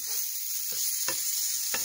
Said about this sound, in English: Got my mushrooms in here. Sauteing them.